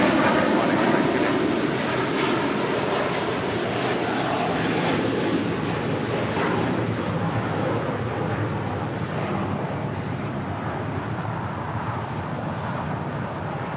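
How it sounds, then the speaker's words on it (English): A Qatar Airways Airbus A350-1000 jet departs toward Doha, its engines a loud, steady, broadband roar that holds strong throughout and eases only slightly toward the end, with no talking. "That is Qatar Airways 742 departing to Doha on the A350-1000"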